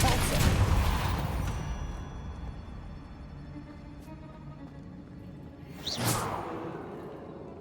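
A Repulsor spell cast in Hogwarts Legacy, a loud whooshing burst with low rumble that decays, followed by a second sharp swish a few seconds later amid ambient game noise.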